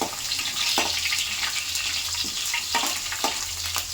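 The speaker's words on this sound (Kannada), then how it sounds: "ಸ್ವಲ್ಪ ಬೆಳ್ಳುಳ್ಳಿನ ಹಾಕ್ಕೊತಾ ಇದ್ದೀನಿ ರೋಸ್ಟ್ ಆಗಲಿ" Garlic roasts in hot oil with mustard seeds and curry leaves, giving a continuous close sizzle and hiss with scattered sharp pops and crackles throughout.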